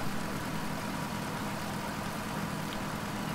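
A vehicle engine in DayZ Taviana runs steadily while driving, a continuous low rumble with a broad hiss on top, even and unbroken throughout.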